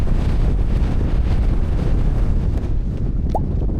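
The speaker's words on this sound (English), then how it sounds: "I can confirm it's windy as shit on here." Strong wind on an exposed fell on the Coledale Horseshoe in the Lake District, a loud, continuous roaring buffet battering the microphone with little let-up.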